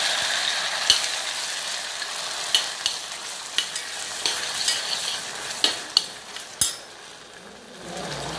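Ground masala paste for village-style chicken kurma sizzles steadily in a pan, a constant close frying hiss broken by sharp spoon scrapes and clinks against the metal at irregular intervals.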